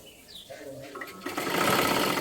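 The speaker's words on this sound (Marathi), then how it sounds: "पाठीमागच्या बाजूला घेऊन शिलाई करत घ्यायचं आहे" A sewing machine stitching fabric, heard first as faint scattered handling and speech-like sounds, then a steady, loud whirring run of rapid stitches through the last second.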